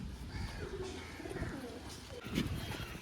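Large Madras and Giribaz pigeons coo in a low, throaty rolling murmur, with a louder burst near the end over faint background rustle.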